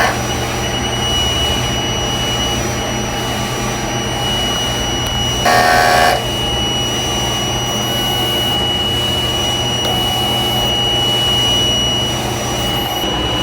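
A large format sublimation printer running a head clean hums and whirs steadily and loudly, with a brief harsher burst of mechanical noise in the middle.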